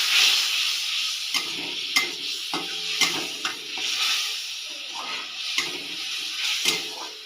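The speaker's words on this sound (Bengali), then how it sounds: "এরকম মশলা কষানো চলছে" Spice masala with bay leaf and whole cumin is sautéed in a pan, an ongoing soft sizzle broken by repeated sharp scrapes and knocks of a spatula stirring the mixture up close.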